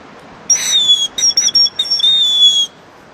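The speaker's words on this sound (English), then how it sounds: "I blow that whistle" A homemade bone whistle gives a shrill, piercing call, blown in one long blast and then a run of short, choppy bursts over about two seconds, loud and close against quiet surroundings.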